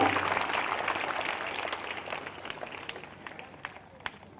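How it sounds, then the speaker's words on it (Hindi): A church congregation at a Sunday evening prayer meeting claps loudly in thanks, a dense burst of applause that gradually thins and fades toward the end. "जिनको समझ में आ गया वो जोरदार ताली बजाकर धन्यवाद दें परमेश्वर को।"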